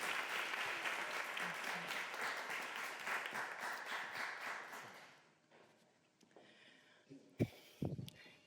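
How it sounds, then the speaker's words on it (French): Conference audience applauding loudly, dense clapping that fades out about halfway, followed by a quiet stretch with a few sharp taps and knocks near the end. "veuillez l'applaudir"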